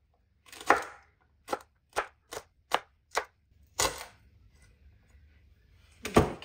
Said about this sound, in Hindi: आपने इतनी बारीक काटनी है, ज़्यादा मोटी नहीं आपने रखनी